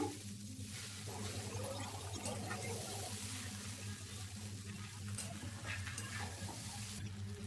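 Egg chowmein mixture frying on a low gas flame, a quiet steady sizzle with a low hum beneath it and occasional faint scrapes as it is stirred, with no talking.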